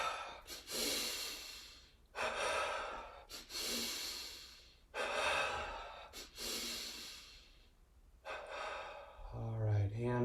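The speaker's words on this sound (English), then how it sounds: "Double exhale." Sharp nasal double exhales during a yoga breathing exercise, repeated in forceful bursts across the span with short pauses between, close and loud, ending with a brief voiced sound.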